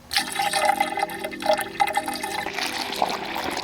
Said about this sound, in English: And then we're going to fill it up with our coolant.